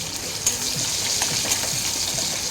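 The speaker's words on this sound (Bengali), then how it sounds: "এখন পেঁয়াজটাকে ভেজে নেব" Onion frying in refined oil in a pan while preparing a fish curry, a continuous close hiss and crackle with a few small clinks of stirring.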